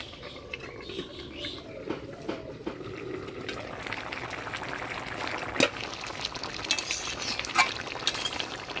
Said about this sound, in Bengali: মাছের মুড়া দিয়ে ঢাকা দিয়ে জাল দিয়ে নিলাম